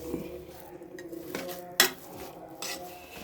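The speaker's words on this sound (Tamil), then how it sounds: "இப்போ நம்ம நல்லா மசிச்சுக்கலாம் அந்த சூட்டோடைய மசிச்சுக்கோங்க" A utensil mashing hot, freshly cooked food in a metal pot, with soft scraping and stirring strokes and one sharp clink of metal on the pot partway through, fairly close and without talk.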